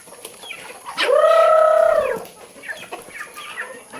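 Chickens in a rural yard eating freshly given feed, one bird letting out a loud drawn-out call near the middle, with softer clucks and scattered pecking noises around it; no talk.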